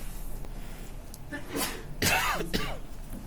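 In a classroom during a maths lesson, a close, sharp sneeze bursts out after a quiet breath, followed by a second smaller sneeze or snort.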